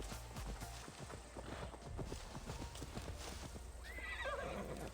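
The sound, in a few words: horse galloping and neighing in the video game Assassin's Creed Valhalla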